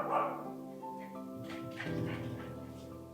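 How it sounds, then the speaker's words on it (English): A dog barks and yips excitedly in the background, a few bursts over a steady harmonic hum, moderately distant. "There's my dog in the background. Don't mind her, she's excited."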